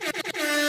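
An air horn sound effect blares loud and close: three rapid staccato blasts followed by one longer sustained honk, brassy and harsh.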